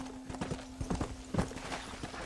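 Horse hooves clip-clopping along a trail in the game Red Dead Redemption, an uneven run of close, crisp hoofbeats over a steady low hum, with no talking.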